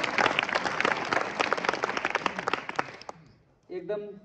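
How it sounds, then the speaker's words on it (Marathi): A crowd applauding during an interview with a village sarpanch, a dense burst of clapping that fades away after about three seconds before a voice speaks. "टाळ्या वाजवा."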